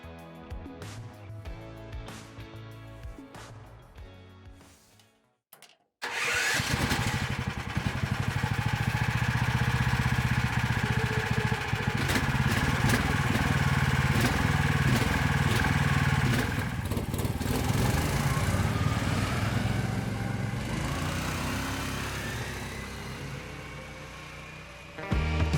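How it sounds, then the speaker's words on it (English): A cheap snowmobile engine with a mechanical brake system cranks, then roars to life and keeps running at a steady, loud, rattling mid-pitched idle and rev, close to the listener. "it's high time to start the engine and try this Sled in practice"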